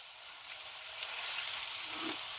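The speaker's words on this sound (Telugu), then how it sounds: "చికెన్ అయితే చక్కగా ఫ్రై అయింది" Boneless chicken masala fries in oil in a pan, a dense, steady sizzling hiss heard up close without any talk.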